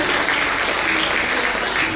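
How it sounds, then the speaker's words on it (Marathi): A crowd at an awards felicitation ceremony applauds loudly and continuously, dense even clapping filling the whole stretch without pause or talk. "जरा जोरदार टाळ्या झाल्या पाहिजेत मंडळी"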